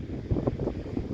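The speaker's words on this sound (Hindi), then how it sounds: "तो इतनी हवा चली है, ठंडी ठंडी हवा।" Cold wind blowing in Lahaul-Spiti, a steady low rumbling buffet across the microphone with a few stronger gusts, loud and continuous with no voices.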